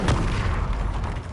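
Bombarda blasting spell going off in Hogwarts Legacy: a dense, loud rumbling burst that starts hard and keeps booming and crackling without letup through the short stretch.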